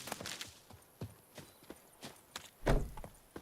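Roach, the horse in The Witcher 3, runs with quick, even hoofbeats clopping along at close range, a brief louder thud near the end, and no talk over the steps.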